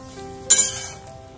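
Two slit green chillies hit a hot frying pan with a sudden, bright sizzle that bursts out loud and then fades over about half a second against a faint background hum.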